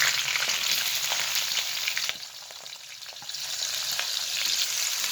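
Onion, green chili and garlic fry in butter with cumin, giving a loud, continuous hiss and sizzle that dips briefly midway as they are stirred, with no voices over it.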